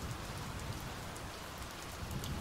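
Steady rain falls at night, a dense even patter of drops on surfaces close by, continuous and moderately loud with no voices.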